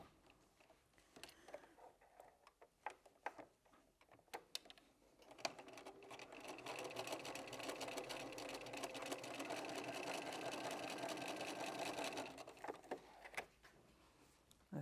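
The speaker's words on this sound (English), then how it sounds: "Back to the machine, I'm going to sew across there." A domestic sewing machine stitches across fabric lavender ravioli: a few soft clicks and handling taps, then one steady whirring run of roughly seven seconds before more light clicks, quiet and close with no voice.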